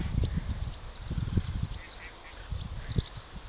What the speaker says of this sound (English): And there's a duck in the background.